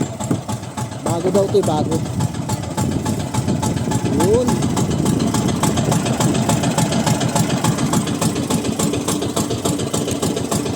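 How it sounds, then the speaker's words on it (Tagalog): A boat's engine runs nonstop at close range, a loud steady idling chug with a fast even pulse, while someone talks over it. "talagang maandar yung makina"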